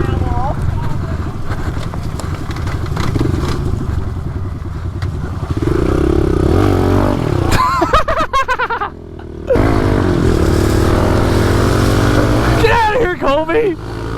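Pit bikes ride inside an abandoned house, their small engines droning and revving loudly throughout, with a brief drop near the middle before the engine noise returns. Excited shouting and talk run over the engines.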